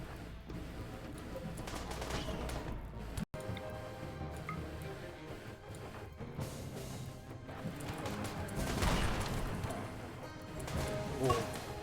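Gunfire in a multiplayer shooter battle game: bursts of shots and impacts scattered through busy, continuous in-game noise, with one sudden sharp crack and denser firing near the end.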